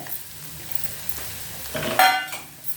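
Beaten eggs and onions fry in a pan for egg podimas, with a spatula scraping and clinking through a soft sizzle that swells into a louder stir near the end.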